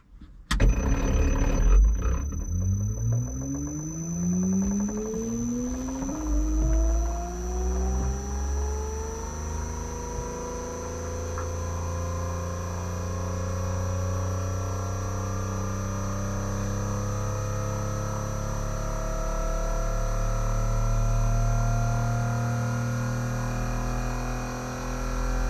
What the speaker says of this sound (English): Let's test our AC pump.